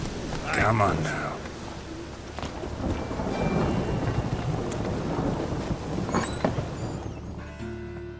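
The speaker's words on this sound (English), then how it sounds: "It just rains and rains." Rainstorm with thunder in the game The Witcher 3: steady loud rain hiss with deep rolling thunder rumbles, under brief spoken voices, the downpour thinning toward the end.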